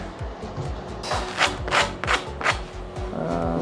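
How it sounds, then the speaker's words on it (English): Hand sanding across a puttied surface produces a steady rhythmic rasping rub, close and fairly loud, in a series of back-and-forth strokes. "I probably should sand it that way"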